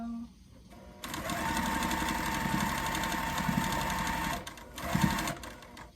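A sewing machine stitches quilt blocks in a fast, steady whirring run that starts after a moment, holds for a few seconds, then slows and stops. A voice is heard briefly in the background.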